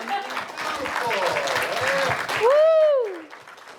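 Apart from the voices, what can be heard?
audience applause at film premiere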